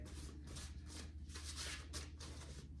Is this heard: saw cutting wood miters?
no